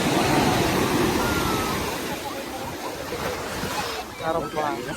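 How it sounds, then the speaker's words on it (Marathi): Steady roar of surf and breaking monsoon waves on the Mumbai seafront fills the scene, with wind rushing across the microphone and voices talking faintly underneath. "लाटा कंटिन्यू चालू आहे"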